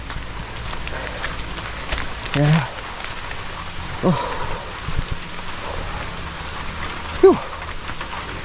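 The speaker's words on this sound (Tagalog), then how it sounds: "Lumalakas na ang ulan." Steady rain falls with a dense, even hiss, and a few short exclamations come in over it.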